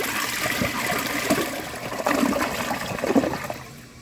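A 2014 Vilbomex toilet flushes a washcloth, giving a steady, loud rush of swirling water and gurgling that runs throughout and tapers off at the end, with no talking.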